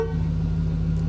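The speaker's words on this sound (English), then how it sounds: "In case you were wondering what the horn sounds like in one of these." An OBS Chevy pickup truck horn blares in one steady, loud, low-pitched honk that holds for the whole second or so, close by, with no talking.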